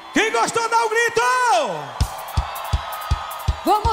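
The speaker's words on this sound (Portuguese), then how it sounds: "Quem gostou dá um grito." A live forró concert crowd in Caruaru shouting and whooping after a singer's sustained sung phrase, followed by rhythmic thumping beats over loud crowd noise.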